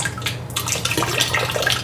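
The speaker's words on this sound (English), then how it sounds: "So now we're gonna take a little bit of this bleach and pour it in there." A small amount of bleach is poured into standing water, a short close splashing trickle that keeps up steadily for a couple of seconds.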